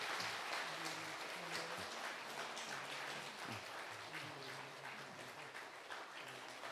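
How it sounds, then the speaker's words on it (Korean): A church congregation claps during a Sunday afternoon worship service, a dense, even wash of applause sustained for several seconds, fairly faint and distant, with no talking. "큰 박수 부탁드리겠습니다"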